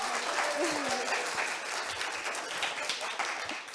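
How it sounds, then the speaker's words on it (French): A crowd at a farmers' charity evening claps hard and fast on cue to drive an applause meter, a loud sustained burst of many hands, with a few voices calling out over it. "applaudir, oui, mais c'est l'applaudimètre qui dit c'est si vrai"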